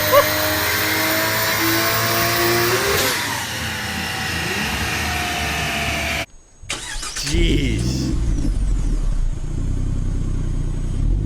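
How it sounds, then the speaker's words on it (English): A Ford Falcon's Barra 4-litre inline-six cranks and fires, rumbling loudly up close before a brief cut and a settled idle, with a short spoken exclamation over it. "These things sound so good on startup. They're an inline 6. They're a 4-liter."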